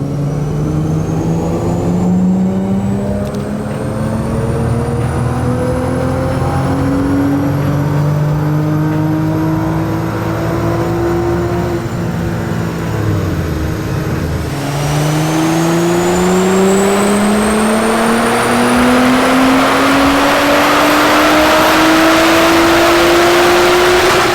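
A Nissan GTR on a dyno at low boost revs hard through a power run, with a loud, sustained engine note climbing steadily, a brief dip as the gears change near the middle, then rising again to a high-pitched peak. No one speaks.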